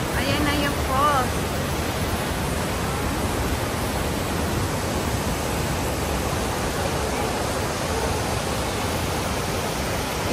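A waterfall reached on a hiking trail fills the air with a steady, loud, unbroken rushing roar.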